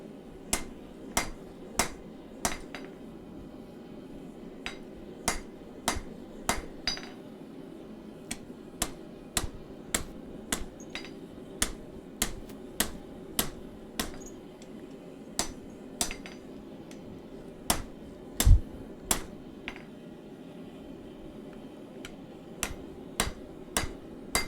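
A hammer rings sharply on hot metal as a knife is forged, with dozens of crisp, evenly spaced strikes in steady bursts over a quiet background hum.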